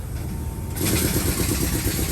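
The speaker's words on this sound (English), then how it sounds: "I'm gonna remote start it." An International LT diesel truck engine starts by remote start: a brief crank catches at about three quarters of a second into a loud, steady low rumble that carries on to the end.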